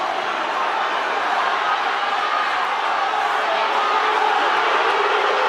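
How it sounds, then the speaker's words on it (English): A rugby league stadium crowd at a St Helens versus Leeds Rhinos match in 2007 roars loudly and continuously, a dense, sustained wall of cheering and shouting with no break. "Crowd going berserk."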